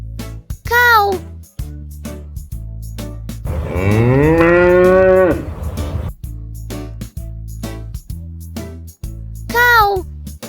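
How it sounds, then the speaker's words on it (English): A cow moos once in a long, loud, drawn-out low call at the center, framed by a child's short spoken words and light backing music before and after. "Cow."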